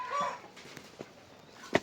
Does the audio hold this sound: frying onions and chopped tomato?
no